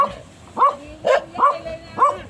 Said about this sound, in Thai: ไปเห่าเขาทำไมลูก